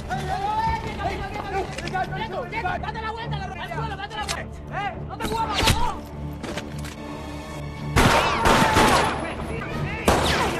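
Gunfire rings out in a movie shootout in which a police officer is killed, sharp bursts standing out loudly around the middle and end amid frantic voices, shouting and dramatic score.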